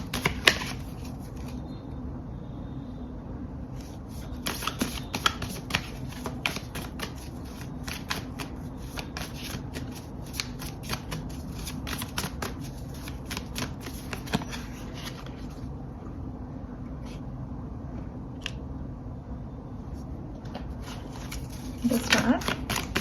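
Tarot cards being shuffled and drawn from a deck during a reading, a steady soft riffling and sliding of cards that runs throughout under constant background noise, with a speaking voice present at times.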